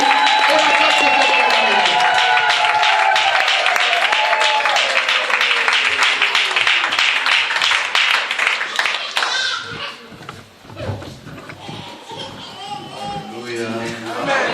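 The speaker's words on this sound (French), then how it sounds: "sous vos acclamations, je fais l'appel à notre bénédiction" A church congregation claps and cheers in a loud, dense burst that swells for several seconds, then drops away as a voice speaks over the thinning crowd noise.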